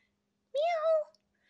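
A single clear meow from a cat, rising slightly and then falling, close by and fairly quiet against a silent background.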